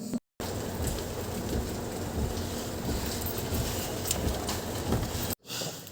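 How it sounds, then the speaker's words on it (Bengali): Torrential rain pours down in a dense, steady hiss with no letup, broken only by brief silent cuts at the start and end. "কি মুসলধারে বৃষ্টি দেখো"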